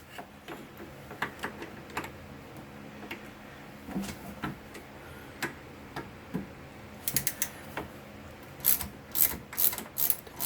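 Bolts are worked loose from the carburetor of a Simplicity SS822ex snowblower, with soft ratcheting clicks and scattered metallic ticks that come quietly at first and then grow busier and sharper toward the end.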